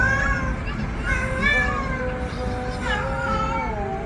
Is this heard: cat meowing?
yes